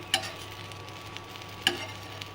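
Soft, steady sizzling of tomato and chilli frying in a little oil in a pan, close by, broken by two sharp utensil clicks or scrapes.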